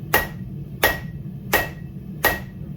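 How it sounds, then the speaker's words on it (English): A straight peen hammer strikes hot steel four times at an even pace, each blow a sharp ringing clang over a low steady background hum. "So we're going to use the cross peen, the straight peen I should say."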